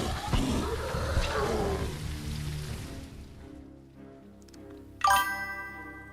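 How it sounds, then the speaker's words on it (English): A single bright notification chime rings out near the end of a livestream, clear and ringing after a stretch of rumbling, rain-like game noise that fades to near quiet. "See, it's still beeping. I'm still hearing that notification."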